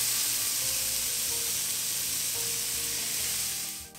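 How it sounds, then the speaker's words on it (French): Onions softening in a pan, a continuous close, even sizzle with faint stirring, fading slightly at the very end. "Pendant que mes oignons fondent"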